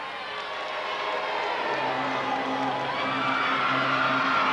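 A wrestling arena crowd at a UWF event keeps up a steady, swelling roar and cheer of anticipation, loud and continuous, with a low sustained tone joining partway through.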